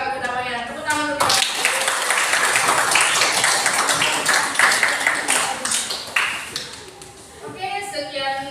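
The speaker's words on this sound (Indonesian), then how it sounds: "Tepuk tangan dulu." Classroom of students clapping hands together, a burst of mixed claps and taps lasting several seconds, with a voice talking before and after the clapping.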